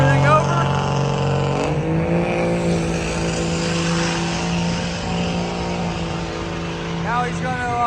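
A pulling truck's engine roars loud and sustained on its first pass in the 770 class qualifier at a truck-pulling event, with pitch shifting as it revs, and voices are faintly audible beneath.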